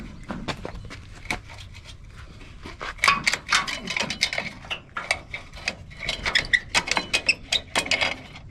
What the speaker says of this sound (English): Just take a 1/2 inch wrench, slide it over it.